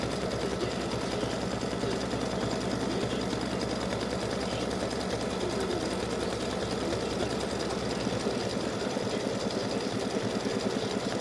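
An embroidery machine runs a triple stitch on a fabric mug rug, a steady dense rapid needle chatter at constant loudness throughout, close and alone with no voices.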